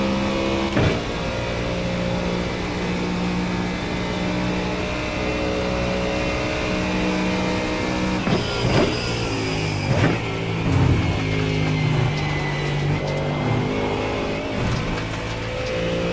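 Race car engine in iRacing at Daytona, a steady sustained drone that rises and falls slightly with gear shifts around a third of the way in and again later, loud and continuous with no talk.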